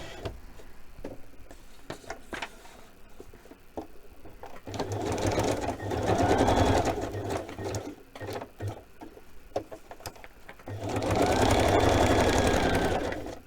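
A sewing machine stitches a tuck into paper, running in two short bursts of rapid whirring between quieter pauses filled with faint ticks and handling sounds.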